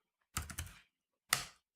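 Someone types on a computer keyboard in two short, faint clusters of quick clicks separated by a brief quiet pause.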